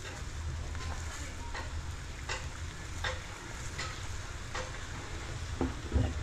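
Fish soup (sinigang with malunggay) simmering in a pot over a fire after a catch-and-cook spearfishing trip in the Philippines, a steady close bubbling and hissing broken by a few sharper pops and ticks, with no talking.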